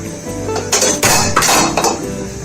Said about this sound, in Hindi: बर्तन को अच्छे से साफ करेंगे।